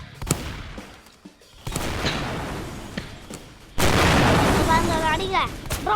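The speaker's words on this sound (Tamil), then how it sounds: "சரி, நான் ஷார்ட் கன் அடிச்சிடுறேன்." Shotgun blasts in the video game Deadly Heist, several sharp booming shots with a loud, sustained burst near the end, mixed with game noise and excited talk from players.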